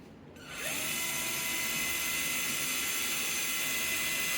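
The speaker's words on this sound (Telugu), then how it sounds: "ఇప్పుడు మనం ఏదైతే స్లీవ్ పెట్టుకున్నామో త్రూ స్లీవ్ నుంచి లాకింగ్ డ్రిల్ వేసుకోవాలి" Surgical power drill boring a locking screw hole through a drill sleeve while a distal humerus fracture is plated, a steady high-pitched whine that spins up quickly and holds level, close and loud, with no speech.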